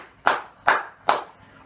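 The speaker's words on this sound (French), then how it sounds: "j'accueille sous mes applaudissements" Three sharp, evenly spaced hand claps close to the microphone on a cooking show set, each one ringing briefly before the next.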